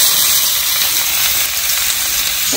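Oil heats and sizzles loudly in a pan on a home stove, with onion, chilli and ginger-garlic paste close at hand: a dense, steady frying hiss that continues unbroken without voices.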